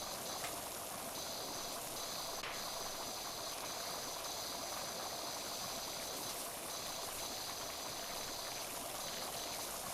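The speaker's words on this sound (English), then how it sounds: "Just shoot the nice electric light bulb with a load of water" Pressure washer spraying water in Power Wash Simulator, Wallace & Gromit garden level: a continuous loud hissing jet runs unbroken from start to end, with a faint steady mechanical whine on top.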